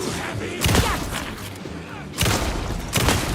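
Several loud gunshots fired at monsters in the horror game Alan Wake 2, arriving in three broad blasts about a second or more apart, each with a short echoing tail over a steady background murmur.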